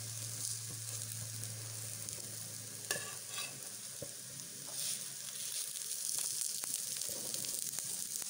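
Harcha semolina flatbreads with tuna and cheese fry in a hot pan, giving a steady, soft sizzle throughout with a few scattered clicks and scrapes as they are turned.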